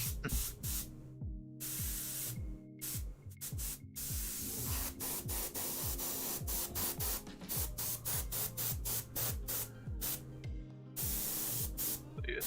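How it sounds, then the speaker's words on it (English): Airbrush spraying paint onto tabletop miniatures of trolls and ogres, heard close up as repeated short hissing bursts interrupted by quick, rhythmic tapping, with no talking. "Thought you were tapping out a little tune there. With the airbrush."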